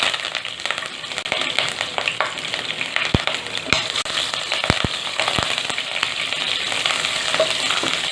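Cumin seeds, a dried red chilli, curry leaves and green chilli bits sizzling in hot oil over a low gas flame, a steady close crackle with sharp pops, no talk.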